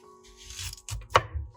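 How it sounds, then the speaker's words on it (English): A knife chopping onions on a board, with a few soft, close thunks spaced irregularly over a second and a half and one sharper strike among them. "Chop them according to your cooking needs."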